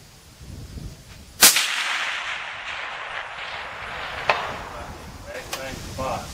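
A single sharp, loud report from a Remington Core-Lokt Tipped 7mm Magnum rifle at a long-distance range, followed by a long rolling echo and a few fainter distant cracks.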